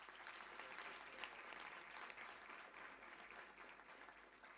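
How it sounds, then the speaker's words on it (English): Audience applause after a university book-of-the-month introduction, a faint, steady wash of clapping from a seated crowd that holds evenly throughout without voices. "I think that deserves another round of applause."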